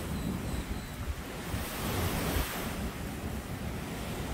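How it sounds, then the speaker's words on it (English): Ocean surf at a resort beach in the Cayman Islands rolls in a steady, hissing wash, with the swell rising gently midway, with wind buffeting the microphone and no voices. "So we can walk right outside to the beach, to the ocean"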